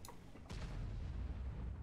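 Artillery fire in a tank video game on a test server: one sudden heavy boom followed by a low, rumbling roll that lingers at moderate distance, with no voices.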